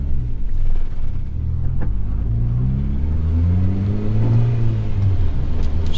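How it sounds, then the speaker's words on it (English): Boosted Honda Civic with a D16Y7 engine rumbling loudly from inside the cabin while driving, a steady deep drone that climbs in pitch as it accelerates. "extremely noisy, boosted Honda Civic"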